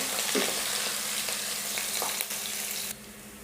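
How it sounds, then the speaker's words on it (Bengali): Chopped onion, bay leaves and garlic cloves sizzle loudly in hot oil while being stirred, a dense continuous frying hiss with light scraping, dropping abruptly to a quieter sizzle near the end. "এখন একটু ভালো করে নেড়ে নেব।"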